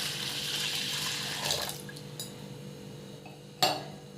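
Red lentils and toor dal being rinsed in water, with sloshing and splashing, a few clinks against the vessel, and one sharper clatter near the end.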